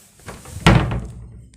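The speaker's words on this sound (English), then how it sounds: "I'm just going to have to close these doors" Wooden cupboard doors in a rental property bedroom swing shut, giving one loud close thud with a short rattle, preceded by a soft knock, then fading into quiet room tone.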